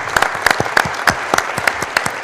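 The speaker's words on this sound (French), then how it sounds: "Je crois qu'il faut les applaudir." An audience at a finance Q&A session applauds two organizers. The claps are moderately loud and fairly sparse, separate hand strikes beating in a loose, uneven rhythm throughout.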